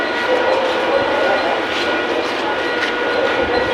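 A Mumbai local train rolls past at night near Dahisar station, making a loud, continuous rumble and rattle of carriages with some metallic clatter close by, and voices faintly underneath.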